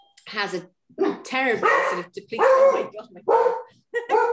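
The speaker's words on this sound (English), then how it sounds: "that's the dog's off to answer the doorbell" A household dog barks repeatedly at a doorbell, the sharp yips and barks mixed with a person talking close by.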